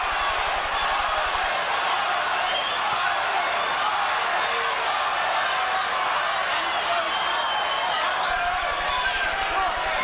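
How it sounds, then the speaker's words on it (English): Boxing arena crowd chanting fighters' names, a broad, steady roar of many voices at a distance for the whole stretch, with no gaps. "It sounds to me as though some people are chanting Michael and some are chanting Starling."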